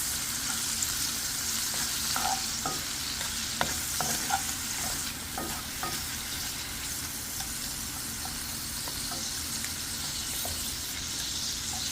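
A utensil scrapes and stirs shrimp in a frying pan over a steady, hissing sizzle, with a few sharp clicks of metal against the pan.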